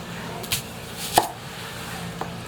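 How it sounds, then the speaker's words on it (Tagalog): A knife slices onions on a cutting board with a few sparse, separate cuts, one sharper than the rest, heard close against a quiet kitchen background. "Tapos mag-iwa na tayo ng sibuyas."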